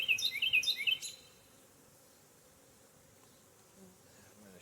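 Honey bees buzz on a frame pulled from a hive, a brief close hum over the first second, then the sound fades to a low, faint background murmur.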